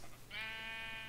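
A single sheep bleat from the video game Minecraft, a drawn-out wavering cry that rises and holds over a faint background hum.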